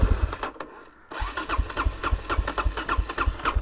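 A Suzuki DRZ400E motorcycle engine cranks and catches after a short lull, then runs with a rapid, rhythmic, uneven pulsing, loud and close, with no talking.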